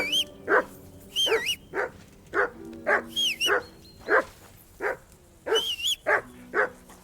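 Dog barking in the video game Kingdom Come Deliverance 2, a run of about a dozen sharp, close barks in an uneven rhythm, with higher whining yelps between them and no talking.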